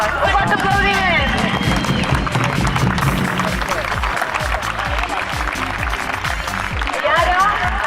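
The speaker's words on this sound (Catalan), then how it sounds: "Un fort aplaudiment!" Crowd applause at a football club's presentation event, dense clapping mixed with cheering and background chatter from a large gathering, sustained throughout and loud.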